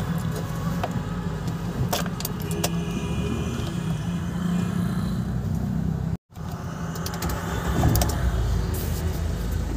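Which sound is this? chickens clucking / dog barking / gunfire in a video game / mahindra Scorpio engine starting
mahindra Scorpio engine starting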